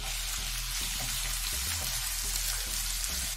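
Finely chopped garlic and onion frying in refined oil with cumin, a dense steady sizzle close up with faint stirring knocks underneath, no voices.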